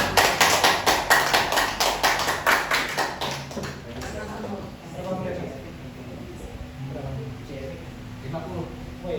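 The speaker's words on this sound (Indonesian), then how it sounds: "Tepuk tangan semuanya." Applause from a small group, a few seconds of quick fairly loud claps that fade out, followed by quieter room tone and a person speaking.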